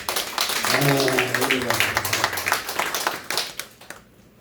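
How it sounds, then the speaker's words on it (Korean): Applause from a church revival meeting audience, a dense patter of hand claps over a few seconds that thins and fades out, with a voice briefly sounding beneath it near the start. "우리 박수 한번 쳐드려요"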